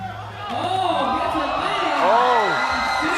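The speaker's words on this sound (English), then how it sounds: "Sue getting some oohs and ahs from the crowd, well deserved." A basketball crowd at a women's FIBA 3x3 quarter-final between New Zealand and Chinese Taipei lets out rising and falling oohs that swell into cheering, a broad, loud arena roar with swooping vocal arcs.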